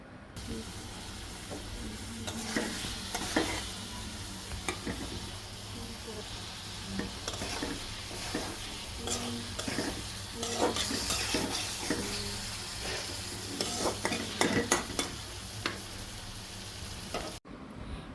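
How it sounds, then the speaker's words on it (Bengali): Stirring and frying of country duck meat with chopped tomato in a pot: steady sizzle with repeated scraping, clattering spoon strokes, close and fairly loud, cut off briefly near the end. "আবারও ভালো করে নাড়াচাড়া দিয়ে দিব"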